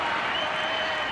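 A large crowd of Parramatta Eels fans at a 1997 rugby league match against Western Suburbs Magpies roars in a steady, dense wash of cheering and applause, brief and unbroken.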